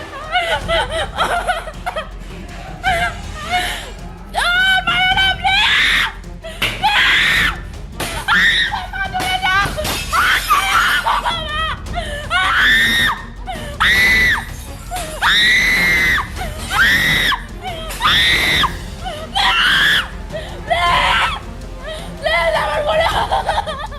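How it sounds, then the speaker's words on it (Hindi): Frantic screaming and pleading cries from people, including a young woman, during an attack amid the Bangladesh crisis. The distressed voices are loud and close, in repeated bursts that last throughout. "हम आगे कुछ बताएं, उससे पहले ये चीखें सुनिए आप।"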